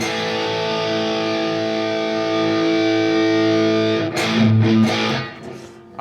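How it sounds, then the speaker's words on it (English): High-gain electric guitar driven through preamp distortion with a Torpedo unit, sustained saturated chords ringing loud for about four seconds, then harsher chugging palm-muted hits before trailing off. "So this is more preamp based distortion more so than anything."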